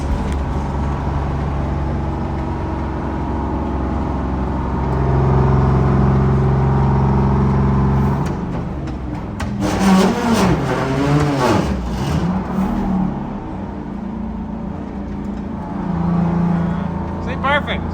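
Antique bus engine droning on the highway, with a steady low rumble that rises in pitch, then breaks into rattling and shifting revs partway through, loud and close, with a voice talking over the later part.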